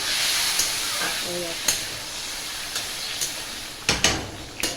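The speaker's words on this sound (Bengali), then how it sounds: "এবার আমি জল দেবো অল্প করে জলটা দিয়ে দিলাম" Water splashed into a hot pan of chicken curry gives a steady hiss and sizzle, punctuated by a few sharp clinks and spits, with a voice speaking briefly over it.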